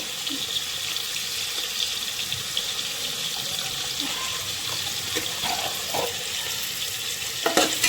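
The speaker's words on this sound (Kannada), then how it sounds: "ಹಸಿ ಸ್ಮೆಲ್ ಹೋಗೋ ತನಕ ಫ್ರೈ ಮಾಡ್ಕೊಳ್ಳಿ" Homemade ginger garlic paste frying in oil in a pan, a steady close sizzle throughout with a few light stirring scrapes near the end.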